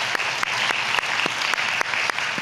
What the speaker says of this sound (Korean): 우리 감사와 우리 또 사랑의 박수를 한번 크게